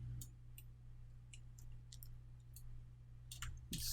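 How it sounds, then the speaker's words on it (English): Keys on a computer keyboard click in a few quick, light taps during 3D modeling work, faint over a steady low electrical hum. "I'm just pressing 3 on my keyboard so I can get a direct on front view."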